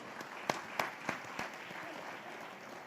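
Audience applause at a business leaders' awards ceremony, heard as quiet, fairly distant clapping with a few sharper individual claps standing out over a soft crowd wash.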